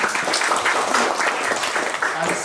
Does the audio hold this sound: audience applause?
yes